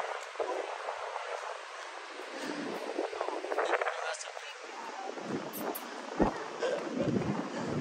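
Wind gusts buffet the microphone in uneven low rushes on a sandy beach in Torbay, Devon, with people talking quietly underneath.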